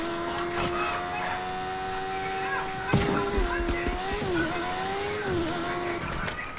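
Motorbike in the Fortnite video game, steady engine drone with a rising and falling pitch as it accelerates and boosts, continuous and close throughout, with faint talk mixed underneath.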